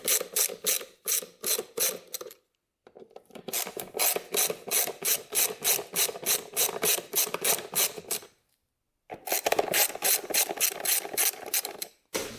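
A ratchet wrench cranks off 10 mm airbox bolts on a Yamaha Warrior 350 ATV, giving rapid rhythmic clicking in three bursts separated by short pauses, close and clear with no talking.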